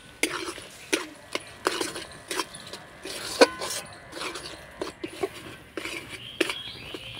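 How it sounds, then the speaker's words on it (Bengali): A spoon stirs carrot paste in ghee in a pan, giving a string of sharp, irregular clicks and scrapes of metal on metal, close and moderately loud over a low background hiss. "তো গাজরের পেস্টটাকে আমি ঘিয়ের সঙ্গে ভালো করে নাড়াচাড়া করে ভেজে নিয়েছি।"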